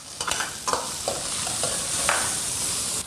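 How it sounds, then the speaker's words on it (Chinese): Seasonings stir-fried in a wok until fragrant, ahead of adding broad beans and chard; a loud continuous sizzle broken by repeated spatula scrapes and tosses, close up with no voices. "全部炒香出味"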